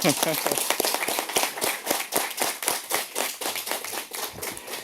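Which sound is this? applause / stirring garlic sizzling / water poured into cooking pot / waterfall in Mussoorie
applause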